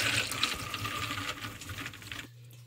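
Tap water runs steadily while soaked lentils are rinsed in a container, a continuous splashing wash that stops abruptly near the end, leaving quiet room tone.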